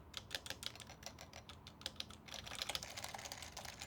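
Rapid typing on a rattly Forever65 mechanical keyboard without stabilizers, a dense run of sharp close-up clacks with uneven rhythm and occasional louder rattling strikes, no talking.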